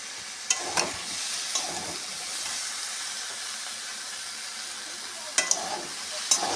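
Potato, brinjal and pumpkin fry in a pan with a steady, close sizzle and hiss, broken by a few sharp clinks of a utensil stirring.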